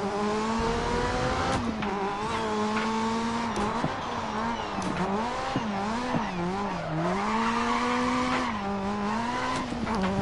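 Rally car in the video game DiRT 4, engine droning and rising and falling through gear changes and braking, with tire scrub and skids, loud and continuous for the whole stretch.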